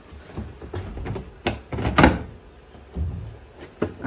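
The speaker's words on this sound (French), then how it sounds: "Au moins la porte est fermée et on ne peut plus rentrer dans le bus." A bus door, in a bus being fitted out as a living space, is pulled shut. Several close knocks and rattles build to one loud clunk, followed by a few softer knocks.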